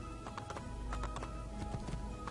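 Horse hooves clop at a riding pace in Assassin's Creed II, a rapid, even run of close hoofbeats set against a constant game background.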